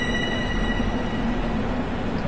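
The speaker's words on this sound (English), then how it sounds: "As other trains leave." Long Island Rail Road trains pulling out of a station, a steady broadband rumble with a faint hum and no voices.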